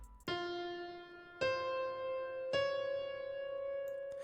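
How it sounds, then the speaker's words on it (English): Three sustained chords struck one after another, about a second apart, each ringing with rich harmonics before the next, forming a basic 1-5-6 progression played clean and alone. "this is just the basic 1-5-6 progression, and it sounds like this"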